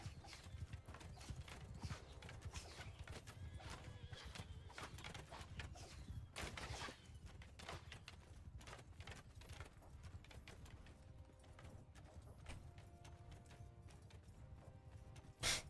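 Horses' hooves pound in a steady, fast galloping rhythm throughout in the video game Mount & Blade II: Bannerlord, continuous and busy, with a sharp louder hit right at the end.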